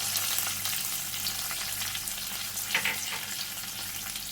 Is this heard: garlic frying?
yes